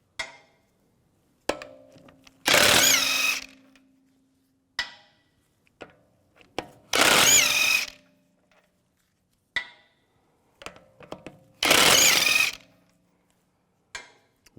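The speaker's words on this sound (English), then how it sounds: "Now take the wheel off, use a 17mm socket. Take these lug bolts off." Lug bolts on a 2004–2010 BMW X3 front wheel come off with a power tool and 17mm socket: three separate loud, roughly one-second whirring bursts, spaced several seconds apart, with light clicks and clanks of tools in between and no talk.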